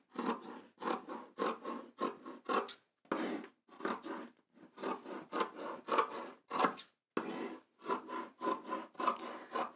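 Sharp quality scissors cutting through quilting fabric, a close, quiet series of rhythmic crunching snips in quick bursts with brief pauses between strokes, no talk.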